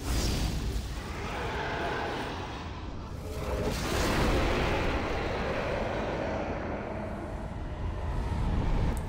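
Spears fired at the Dragon God boss in the Demon's Souls video game, a dense, loud, continuous roar with a sweeping whoosh partway through and no talking.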